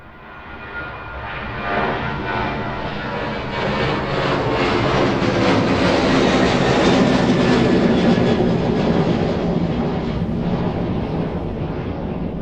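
Jet airliner departing from runway 27 at East Midlands Airport in the evening, a loud, broad engine roar that builds steadily, holds near full strength as the aircraft passes close by, then begins to ease.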